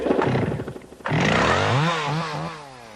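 A chainsaw used for carving wood runs loud and close, its engine churning and then revving with the pitch rising and falling as it works.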